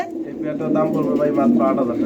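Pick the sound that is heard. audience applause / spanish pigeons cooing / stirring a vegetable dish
spanish pigeons cooing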